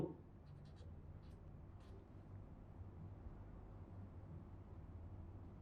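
A pen writes maths on paper or a board, making a few faint, brief scratching strokes early on, then a long stretch of steady low hum.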